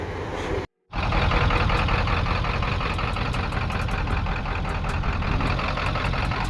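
A Ford 7.3 diesel truck engine fitted with a Hydra chip idles close by with a loud, steady clatter and rumble, broken by a brief dropout near the start, then running evenly with no talking.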